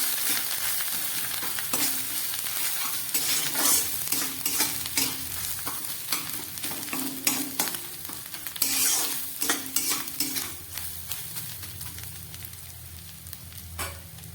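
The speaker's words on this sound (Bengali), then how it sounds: "এবার দিয়ে দিচ্ছি নারকেল কোড়াটা। সব দিয়ে একটু ভালো করে একটু ভেজে নিতে হবে।" Panch phoron and grated coconut fry in a pan with a continuous close sizzle as a spatula stirs and scrapes repeatedly against the metal, with sharp clinks scattered throughout and no speech.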